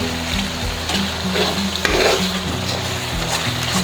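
Tomato paste frying with spices in a pan for a mash dal dish, a steady loud sizzle with stirring scrapes throughout and no voices.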